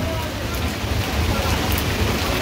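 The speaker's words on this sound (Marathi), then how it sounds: "काल रात्रीपासून खूपच जोरात पाऊस चालू आहे सगळीकडेच" Monsoon downpour in Badlapur pours down in a loud, unbroken hiss and patter that stays close and fills the whole moment.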